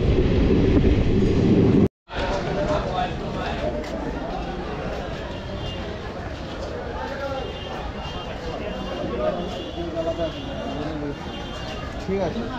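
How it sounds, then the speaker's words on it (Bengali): A passenger train near Krishnanagar station in West Bengal gives a continuous loud rumble with faint rail clatter, broken by a brief cut to silence early on, while a voice talks over it. "কৃষ্ণনগর স্টেশনে এই মুহূর্তে আমি আছি, এখন ট্রেন এখানে কিছুক্ষণ দাঁড়াবে"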